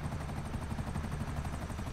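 Helicopter in the video game GTA 5: a steady, dense rotor whir with rapid low-frequency chopping, continuous and moderately loud, with no speech.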